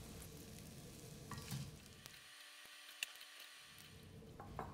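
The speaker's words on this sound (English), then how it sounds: "1 stalk of sliced green onion, and stir to combine for about 10 seconds" Sate beef noodles with sliced green onion sizzle softly in a pan while being stirred, a faint steady crackle with light scraping and one brief lull.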